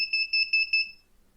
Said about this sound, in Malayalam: ഇപ്പോൾ 2 ബീപ്പുകൾക്കിടയിലുള്ള സമയവ്യത്യാസം 1 സെക്കൻഡായി മാറുന്നു